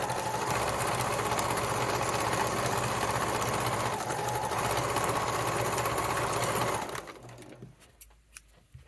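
A sewing machine stitches the curly toe of a Yuletide stocking, running in a steady close buzzing whir for about seven seconds before stopping, leaving a few faint handling clicks.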